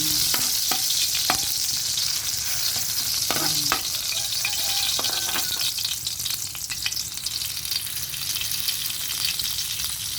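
Steady, loud sizzling of garlic frying in a hot pan, with occasional clinks and scrapes of stirring near the start.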